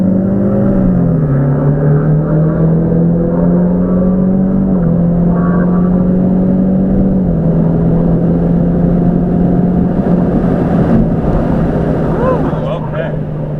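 A tuned 2019 Mustang EcoBoost racing a full-bolt-on Focus ST: a loud, sustained engine drone from inside the car rises and shifts pitch through gear changes, with speech in the cabin.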